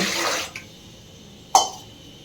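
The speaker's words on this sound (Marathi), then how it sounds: "1 तांब्या पाणी ओतून घेऊ." Water pours from a jug into an idli steamer pot for making sabudana papad, a brief splashing gush at the start followed by quiet, with a couple of small knocks later.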